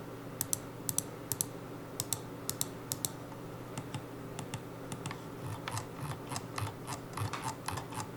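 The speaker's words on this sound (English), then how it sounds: "The scroll wheel feels just fine. It has some light steps in it, so you won't just continuously scroll past what you're trying to." A computer mouse scroll wheel with light steps ticks close by in quick clusters of sharp clicks, with short pauses between bursts, over a faint background hum.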